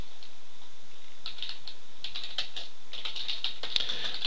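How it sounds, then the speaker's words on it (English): Typing on a computer keyboard while entering financial functions into a spreadsheet: quick, irregular bursts of light key clicks, close and clear, growing denser toward the end with no talking. "You can just follow along in typing what I'm typing."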